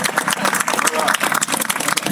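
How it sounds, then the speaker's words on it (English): A walking tour group in Stockholm claps for their guide outdoors, with uneven, close clapping from a small group mixed with a voice talking over it. "Give me a round of applause if you liked it."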